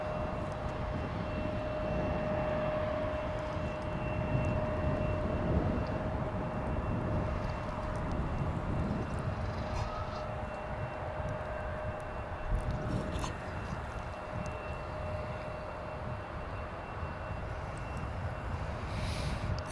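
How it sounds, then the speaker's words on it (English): American Eagle Embraer 175 airliner at Dallas/Fort Worth Airport, a steady, fairly faint engine roar with a constant whine held throughout, heard from a distance without talk. "There is American Eagle Flight 3571. It's an Embraer 175, and this one is bound for Harlingen,"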